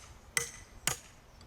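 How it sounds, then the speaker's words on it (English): Two sharp metallic taps as a Husqvarna log vise is driven into a log with the back of a Husqvarna axe, evenly spaced about half a second apart, close and clear. "We'll tap it into the log using the back of the Husqvarna axe, like so."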